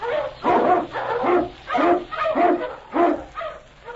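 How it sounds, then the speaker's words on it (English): An Eskimo lead dog named King barks in a string of evenly spaced, loud, close woofs with a faint whimpering tone, alone without talk. "King, the swiftest, strongest of Eskimo lead dogs, blazes the trail through storm and snow"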